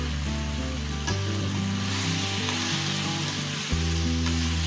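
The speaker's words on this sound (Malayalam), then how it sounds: "അതിലേക്ക് ബോയിൽ ചെയ്ത് വെച്ചിരിക്കുന്ന ജാക്ക് ഫ്രൂട്ട് സീഡ് ഇടുക," Boiled jackfruit seeds sizzle in hot oil in a frying pan, a dense, continuous, close hiss with steady music underneath.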